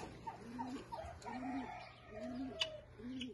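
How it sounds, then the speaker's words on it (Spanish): Pigeons kept alongside a black hen in a backyard coo in a soft, repeating series of low, rolling calls, each phrase evenly spaced and fairly close, set against quiet background noise. "Mira que tiene sus palomas."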